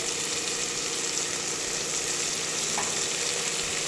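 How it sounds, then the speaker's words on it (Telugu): Soya chunks (meal maker) and dried fenugreek leaves (kasuri methi) frying in a pan for pulao, giving a steady, close, dense sizzle with no voices. "చూడండి ఇది మంచిగా వేగుతుంది కదా"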